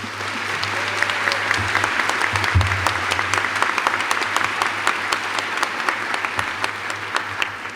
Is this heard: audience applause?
yes